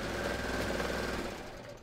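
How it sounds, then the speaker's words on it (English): A serger runs fabric around in a circle, giving a fast, steady mechanical chatter close by that eases off slightly toward the end. "when you're working on your serge and you're serging in a circle"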